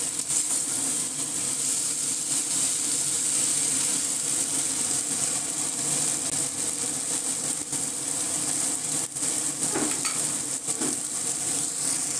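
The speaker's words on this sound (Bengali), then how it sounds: "এবার হাই ফ্লেমে আবার 5-7 মিনিট কচুরলতি ভালো করে নাড়াচাড়া করে আমি গরম গরম নামিয়ে নেব।" Arum lobe with prawns and mustard fries over a high flame while being stirred, a steady close sizzle with occasional scraping of the spoon against the pan and no talking.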